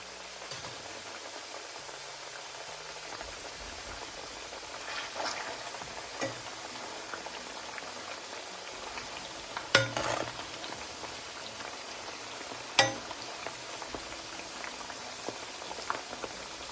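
Oil bubbling steadily around potato slices frying for homemade crunchy potato chips, a continuous close sizzle and boil with a few sharper pops and clatters now and then.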